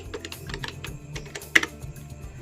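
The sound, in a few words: typing a command on a phone keyboard in Termux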